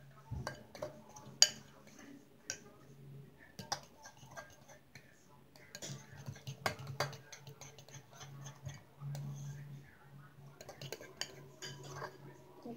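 Fork stirring and scraping through homemade regular slime in a bowl, a run of light clicks and ticks spread through the clip, fairly close and quiet, with soft sticky squelches between them.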